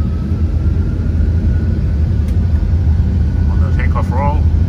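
Boeing 747-8 engines spooling up to takeoff thrust on the runway in a flight simulator game, a steady low roar that holds level throughout, with brief electronic chimes near the end.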